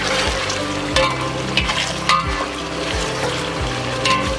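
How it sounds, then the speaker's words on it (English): Mutton fries loudly in a pan, a thick continuous sizzle near at hand with periodic low scraping thumps of a spatula every half second or so, no talking. "now since the mutton is being cooked, what we are doing is I'll wait for the mutton to become slightly crispy on top"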